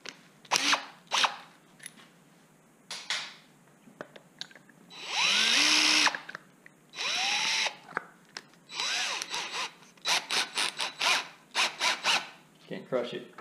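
A power drill spins a dense 3D-printed mill knee adapter held in its chuck, giving short whirring bursts that rise in pitch, separated by pauses and scattered handling clicks.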